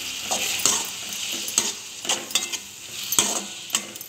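Chopped tomato sautéing in a pan after onions for a bitter gourd fry, a steady sizzle broken by repeated spatula scrapes and taps, near and moderately loud, with no talking.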